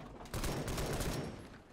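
Rapid bursts of gunfire in a World War I action game, a dense, loud volley that swells after a quieter start and rattles on continuously like massed rifle and machine-gun fire.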